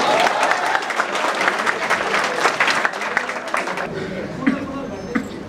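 Audience at a college fresher party breaks into steady, dense applause that carries for several seconds and then thins out, with a few scattered voices and cheers underneath.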